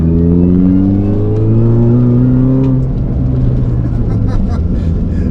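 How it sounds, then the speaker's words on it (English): A loud supercharged Mini engine roars steadily while a high supercharger whine rises in pitch as it accelerates, close and continuous throughout. "The whine of that supercharger is addictive."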